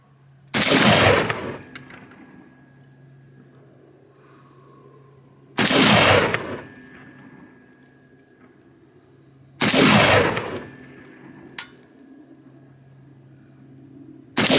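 An M92 rifle is fired while being zeroed. Three loud, concussive shots come several seconds apart, each followed by a ringing, decaying tail and quiet between them.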